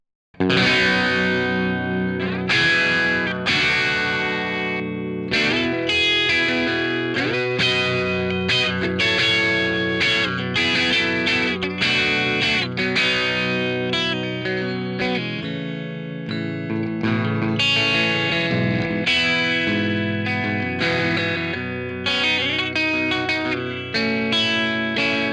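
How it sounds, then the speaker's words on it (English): Electric guitar played through a vintage Marshall amp with the boost knob pulled out for a cleaner tone. Chords and single notes ring out continuously at a steady, full level, with no talking. "So if you pull this knob, it's disengaged, and this gives you a much cleaner Marshall sound"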